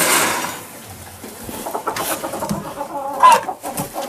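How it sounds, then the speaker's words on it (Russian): Chickens and a rooster in a coop: nearby clucking and crowing calls scattered over a few seconds, with a rooster's call standing out near the end amid general barnyard rustle. "Кукарекают."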